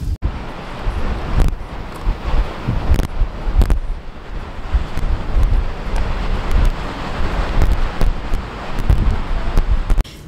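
Strong wind gusting across the mic outdoors near a small harbour dock on a frigid day, a steady loud roar with sharper buffeting bursts throughout.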